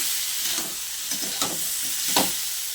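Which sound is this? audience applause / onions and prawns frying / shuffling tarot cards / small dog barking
onions and prawns frying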